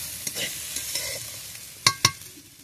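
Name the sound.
stirring pumpkin peel and potato fry in pan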